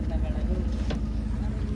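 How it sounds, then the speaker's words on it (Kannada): A speedboat engine hums steadily at a resort's water-activity area, a low, even drone running throughout, with people talking over it. "ನಮ್ಮ ಬೋಟ್ ಶುರು ಆಗಿದೆ."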